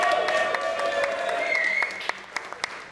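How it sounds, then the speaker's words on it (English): Scattered clapping from a small audience at an Old School RuneScape Deadman finals event, with sustained musical tones trailing off before several louder, isolated claps finish it. "let's get a big warm round of applause for Manked Up Mage"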